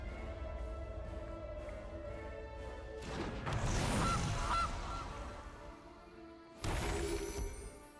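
The Gilded Goose card in the Magic Arena digital card game lets out a cartoonish honk with a crashing impact effect, loud and close. A second burst follows a few seconds later over quiet game music.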